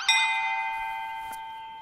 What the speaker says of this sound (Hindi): तो जाए ना अपन घंटी बजाई।